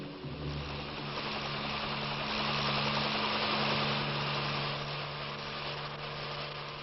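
A military helicopter flies low in contour flight, a steady loud engine and rotor drone that swells slightly midway, with no talking over it.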